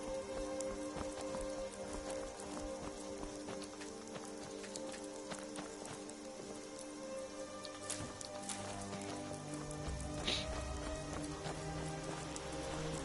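Rain falls in the video game Skyrim as a soft, continuous patter. It stays faint and even throughout, with a light clopping like hooves or footsteps mixed in.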